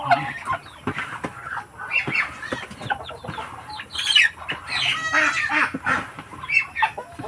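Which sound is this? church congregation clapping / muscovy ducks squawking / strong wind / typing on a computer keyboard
muscovy ducks squawking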